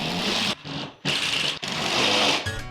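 A power drill drives screws during a rental property renovation, several close, loud whirring bursts that start and stop in quick succession with short pauses between them.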